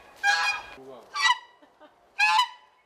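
A four-year-old gander honks three times, loud and close, with short pauses between the harsh nasal calls.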